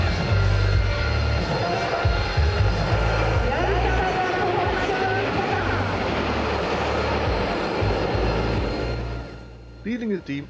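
Patrouille de France Alpha Jets fly over at an air show, a steady loud jet roar with speech layered over it before it fades near the end.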